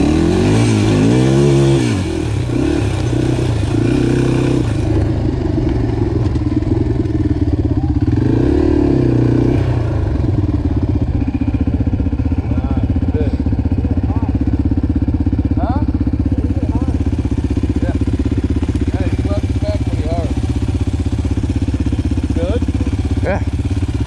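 A motorcycle engine revs and idles on a muddy off-road trail, a loud continuous mid-pitched drone with a few rising revs early on, steady throughout with some rattling clatter over it.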